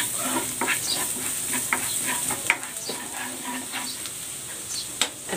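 Garlic sautéing in a hot pan, a steady sizzle under repeated close scraping strokes of a stirring utensil against the pan.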